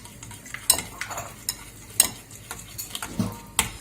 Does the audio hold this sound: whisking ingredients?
yes